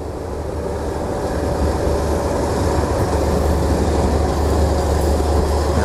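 Thai passenger train 371 running past Ban Thap Chang station in the evening, a loud continuous rumble of wheels and carriages rolling close by with faint rail clatter.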